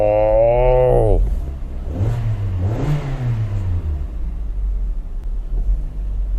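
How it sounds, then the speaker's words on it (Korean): A Kia K5 engine, parked, revs up sharply and holds at a high whine, then drops back to a steady, deep idle rumble. "엑셀링을 한번 해보겠습니다."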